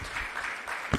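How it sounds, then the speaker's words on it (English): Audience at an official launch event applauding, a short burst of dense clapping at moderate volume, heard briefly on its own. "Can we applaud each and every one of them again"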